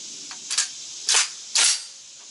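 A shotgun firing 00 buckshot through a modified choke gives three sharp, distant-sounding reports with hissy tails, spaced about half a second apart against a quiet background.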